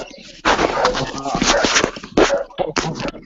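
Dogs bark and yip in a noisy outdoor setting, several sharp, loud, close barks and whimpers in irregular bursts, mixed with background voices.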